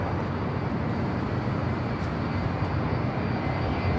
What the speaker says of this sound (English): That was American Airlines Flight 136 heading to London Heathrow, 777-300ER, taking off there on the south side.